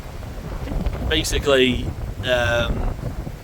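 Strong wind buffets the microphone in a continuous low roar on a riverbank of the River Severn, with a person speaking briefly over it.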